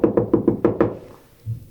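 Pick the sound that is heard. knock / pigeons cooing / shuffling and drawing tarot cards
knock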